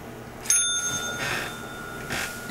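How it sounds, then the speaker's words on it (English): A cat strikes a bell once, producing a single clear, bright ring that lingers and fades over about a second, followed by soft rustling and tapping. "Ring the bell. Ring it."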